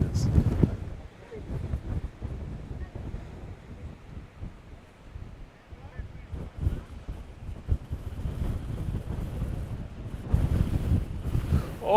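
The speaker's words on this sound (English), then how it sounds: "this wind is scary" Strong wind gusting outdoors on the Greek island of Naxos near the Portara, buffeting the microphone in loud, rumbling bursts that swell and ease across the clip, rising again toward the end.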